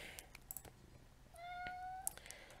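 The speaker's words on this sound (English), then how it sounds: "my cat really he doesn't know when to shush" A pet cat meows once, close and fairly quiet, a short rising cry over a hushed room with faint clicks around it.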